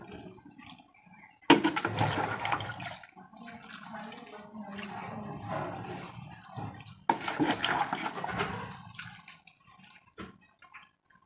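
A water solution mixed with Trichoderma, two grams per litre, is poured over dragon fruit cuttings in a fruit crate, giving two main bursts of splashing pours with gentle trickling and drips between.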